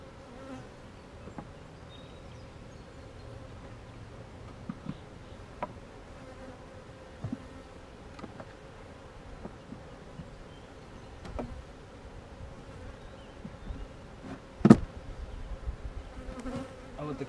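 Honeybees buzz steadily around an opened hive during an early March routine inspection, a close, continuous insect drone with occasional sharp knocks and clicks from handling the hive, no talking.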